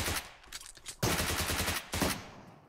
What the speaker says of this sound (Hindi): भाई फायरिंग